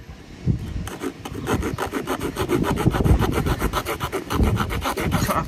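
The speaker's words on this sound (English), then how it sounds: "bring up my saw, and I cut a V into just the edge of the thing" Small multi-tool saw cutting a V notch into the edge of a wooden bow drill spindle, a steady run of rapid rasping strokes close up, fairly loud and alone with no talking.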